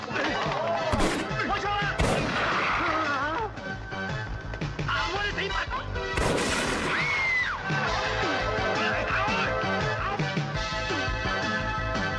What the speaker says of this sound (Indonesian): terjadi baku tembak di antara ketiganya